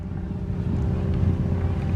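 Low, rumbling radial aircraft engine idling steadily during a magneto check at an airshow, with a throbbing tone, close and fairly loud, slight rise in level partway through.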